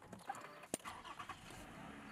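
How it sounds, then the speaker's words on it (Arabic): A car engine starts faintly in the background, with a brief crank and catch amid low ambient noise. "تبي شغل السيارة"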